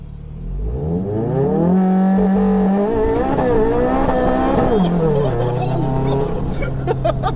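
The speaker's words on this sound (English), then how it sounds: "Are we going to get our first experience of this car launching?" An 800 bhp tuned Volkswagen Golf R engine roars up hard at close range, launching at full throttle, revving and straining with rising and falling pitch, with voices faintly audible underneath.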